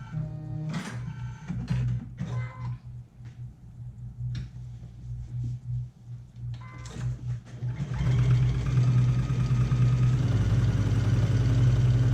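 A sewing machine runs steadily as it stitches around the cup lining of a swimsuit, first in short bursts with small handling noises, then a louder continuous whir for the last few seconds.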